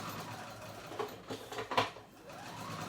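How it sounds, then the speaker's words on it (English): A sewing machine runs a long straight gathering stitch around a romper's waist, a faint, quiet whirring hum with a few slightly louder mechanical bursts near the middle. "I'm going to do a gathering stitch around the whole waist"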